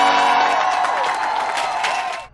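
Loud applause and cheering from a crowd with whoops, dense and continuous for a couple of seconds before cutting off abruptly.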